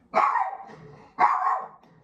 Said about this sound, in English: oh, my dog's gonna bark.